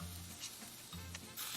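Quesadilla frying in olive oil in a pan gives a steady close sizzle with a low hum underneath and a few light stirring or scraping touches.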